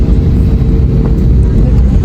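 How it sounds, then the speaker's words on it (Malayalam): Inside an airplane cabin as the flight departs, a loud, constant low engine rumble and airflow drone fills the space, steady and close. "അങ്ങനെ നമ്മളെ ഫ്ലൈറ്റ് ഇപ്പം പോകുന്നു"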